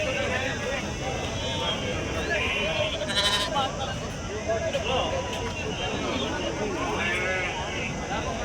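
Rams bleat over and over at a busy outdoor livestock market in Telangana, loud overlapping cries from several animals amid a constant crowd murmur, with people talking nearby throughout.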